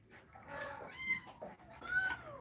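Cat meowing in a farmyard setting, a few quiet drawn-out meows, rising and falling, heard fairly close amid faint background noise.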